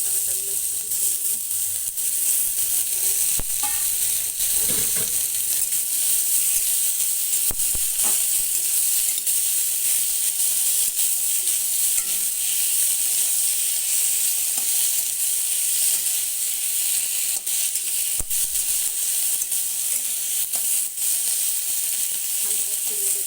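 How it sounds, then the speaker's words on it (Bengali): Onions, green chilies and tomatoes fry in a pan with a steady, dense sizzle that runs unbroken throughout, with a few faint clinks and stirring knocks scattered through it. "এবার আমি পেঁয়াজ, কাঁচা লঙ্কা আর টমেটোগুলো একটু ভেজে নেব।"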